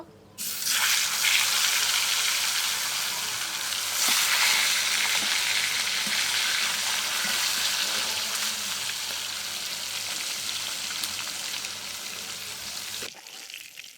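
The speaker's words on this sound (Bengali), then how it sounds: "মাছগুলো ভাজা হয়ে গেছে, এখন মাথা দুটা ভেজে নেব।" Two carp fish heads fry in hot oil, a loud, close, continuous sizzle and crackle that starts abruptly and runs on steadily before stopping near the end.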